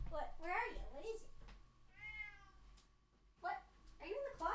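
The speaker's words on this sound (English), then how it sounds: "she's sitting in the closet meowing to herself" A cat meows inside a closet, a clear drawn-out meow in the middle, with a voice talking before and after it.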